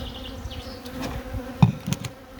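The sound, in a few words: honey bee swarm at beehive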